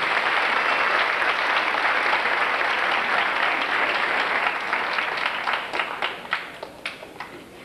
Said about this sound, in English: let's give Becky a nice round of applause